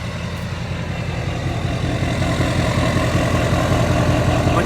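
A lifted, tuned and deleted 2015 Duramax diesel GMC Denali pickup idles close by with a deep, steady rumble and a rhythmic diesel knock, running unchanged throughout.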